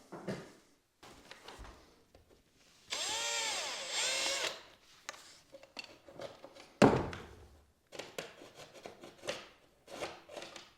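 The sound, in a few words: drilling a pilot hole in drywall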